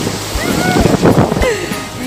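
Ocean surf at a beach in Salinas washes in as a loud, continuous rushing roar close to the microphone, with splashing water and wind buffeting, while a voice talks over it.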